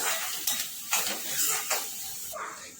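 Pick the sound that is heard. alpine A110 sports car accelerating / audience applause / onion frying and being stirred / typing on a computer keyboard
onion frying and being stirred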